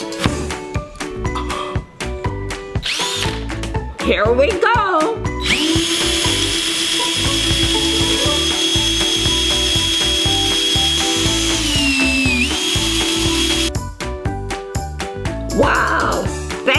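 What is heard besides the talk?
power drill spinning an apple against a peeler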